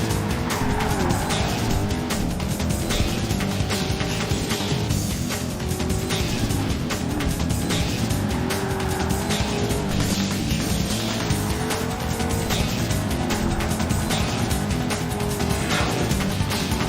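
Race car engine in the Project Gotham Racing 2 video game, a steady loud roar through about 17 seconds with shifting pitch, sharp tire squeals and skids as the car corners at speed, no talk.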